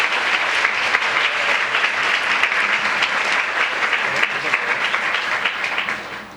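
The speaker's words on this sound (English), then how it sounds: "give a big round of applause to the jazz team once again" A large audience at an international youth peace conference gives a jazz ensemble a loud, sustained round of applause, thick steady clapping with scattered sharper claps, fading slightly at the very end.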